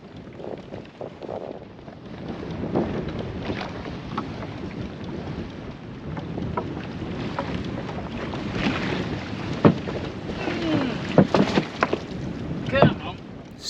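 Strengthening wind rushes steadily around a small cruising dinghy at sea among islands with fast tidal currents, gusting and buffeting, with occasional knocks and thumps rising near the end.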